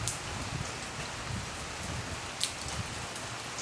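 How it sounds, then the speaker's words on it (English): Steady rain falls during a California rainstorm, a continuous close hiss with a few brighter drip spikes scattered through it. "It's pretty amazing that it's still raining even this long."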